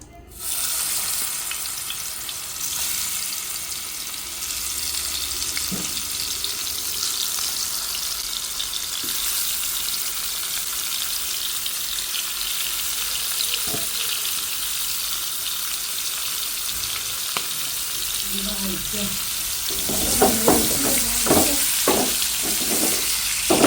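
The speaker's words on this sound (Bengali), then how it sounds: "আটটা ইলিশ থেকে একটা ইলিশ এখন পুরাটা ভেজে নিচ্ছি" A whole hilsa fish, head and tail included, frying in a pan with a steady, even sizzle, broken near the end by a few clattering knocks and stirring sounds.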